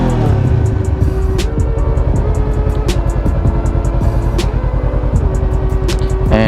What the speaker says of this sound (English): The stock muffler on this sounds like an angry sewing machine.